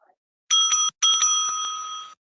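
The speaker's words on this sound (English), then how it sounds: "The timekeeper will ring the bell once to show the start of the preparation time" A debate timekeeper's bell rings twice in quick succession, bright and loud, the second ring lingering longer before fading, with no voices around it.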